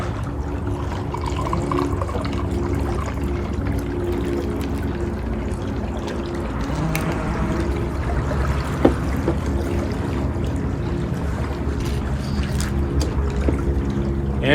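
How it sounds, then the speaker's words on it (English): A tiki cocktail of pineapple rum and banana liqueur poured over ice, a continuous close liquid splash and trickle, with faint clinks from the ice. "And we're just going to pour that over ice."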